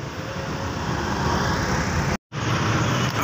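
A traffic jam on the road from Kartosuro toward a red light, a continuous wash of car, bus and truck engine noise close by, broken by a brief dropout.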